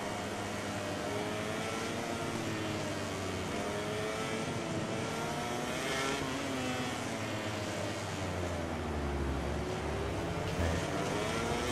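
A MotoGP 18 race motorcycle engine whining steadily and loudly, its pitch sweeping up through the gears as it accelerates, continuous throughout.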